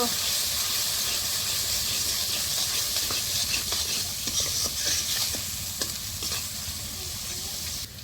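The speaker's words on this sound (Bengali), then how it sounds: "ভালো করে আমি কষায় নিব" Spices with turmeric and chili powder sauté in a pan for a fish curry, a steady close hiss of frying broken by repeated scraping stirs throughout.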